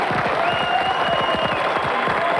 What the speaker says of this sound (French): quelques applaudissements pour l'équipe blanche également.